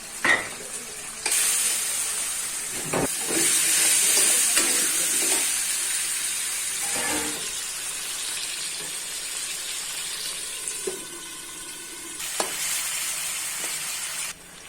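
Spiced pumpkin and egg curry sautéing in a pan with garlic paste, onion paste, salt and turmeric, a continuous close sizzle and frying hiss broken by scraping stirs and clatters, with no talking.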